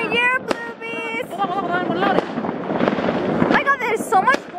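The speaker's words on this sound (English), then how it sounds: "There's everywhere fireworks." New Year's Eve fireworks burst all around, sharp cracks and booms overlapping with whistling rockets and crackle, with excited voices talking amid the noise.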